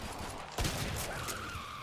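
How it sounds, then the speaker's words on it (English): A single shotgun blast fired in the video game Killing Floor 2 cracks out sharply, then fades quickly over faint background noise. "this shotgun is terrible."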